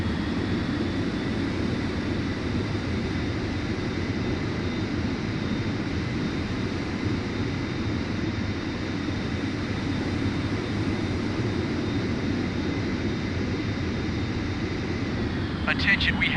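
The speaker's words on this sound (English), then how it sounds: "Fighter jet ready for launch." Fighter jet launching from a warship in the mobile game Mobile Warships, a loud continuous engine roar with a steady high whine holding throughout, then a brief burst of clatter at the end.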